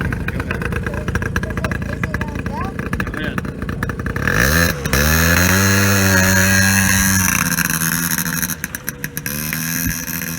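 A 2001 Polaris Scrambler 50 ATV with a stalling problem runs through a test ride, its small engine buzzing and revving up and down nearby, with a voice talking over it early on.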